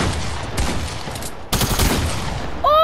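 Fortnite gunfire rips out in loud, dense rapid bursts, a continuous fusillade of close shots with a brief break midway before a second sharp volley.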